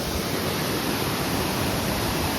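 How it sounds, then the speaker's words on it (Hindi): A waterfall near the India–Nepal border roars as a steady, dense rush of falling water, loud and continuous. "इधर बगल में झरने हैं, कितने प्यारे झरने हैं"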